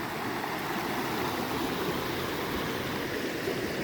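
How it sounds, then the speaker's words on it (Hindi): A hill river near Lohaghat on the Delhi to Reetha Sahib route rushes steadily in a broad, continuous wash of flowing water, close and loud with no voices. "क्या आवाज़ आ रही है पानी की।"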